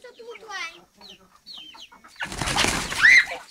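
Chicken clucking and flying, with a short burst of noisy wing flapping and a squawk close by after some bird calls, and a voice heard briefly at the start.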